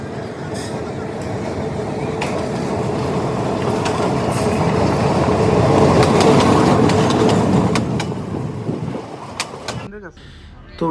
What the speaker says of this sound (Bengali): ট্রেন আসতেছে তার যে হেডলাইট অনেক সুন্দর